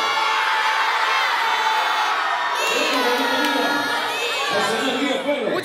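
A large crowd of fans at a live concert roars and cheers, many voices shouting together in a loud, sustained wall of sound that swells midway with higher whooping calls.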